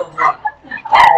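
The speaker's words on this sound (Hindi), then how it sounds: "ओए कौन भौंक रहा है?" A dog barks in short yipping bursts, loud and close, with one sharper bark near the end, set in a classroom during a science lesson.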